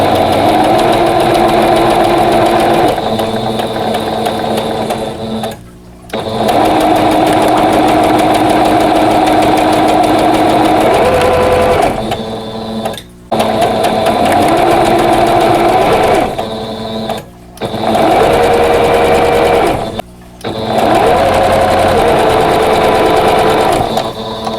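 A sewing machine stitches steadily in long whirring runs while chain piecing quilt block fabric, with 50 weight thread and a 2.0 stitch length, pausing briefly between pieces, close and loud with no talking.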